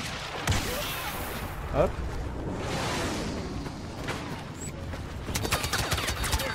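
Anti-infantry turret in Star Wars Battlefront laying down sustained blaster fire amid battle noise, with whooshes and a sharp burst of shots near the end, under a voice speaking over it.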